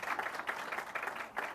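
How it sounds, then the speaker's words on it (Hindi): Audience applause during a studio interview, a short burst of scattered clapping with a few louder swells, fairly faint and without speech on top. "तालियां भी बज गई।"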